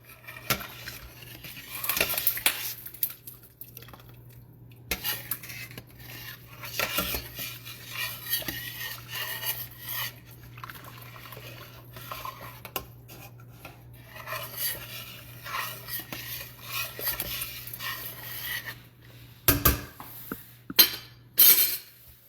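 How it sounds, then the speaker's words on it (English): A spoon scrapes and stirs chicken and dumplings in a metal pot, repeated close rasping strokes with clinks against the sides, pausing briefly before a few sharper knocks at the end. "Stir that up in there, what I put in there."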